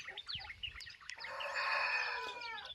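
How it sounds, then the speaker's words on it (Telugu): A rooster crows from a short distance on a farm, a long drawn-out call rising over scattered chirps and clucks of other birds. "ఆ ఫార్మర్ దగ్గర కోళ్ళు కానీ ఉన్నాయి కోడిపుంజులు రకరకాల కోడిపుంజులు అయితే ఉన్నాయి"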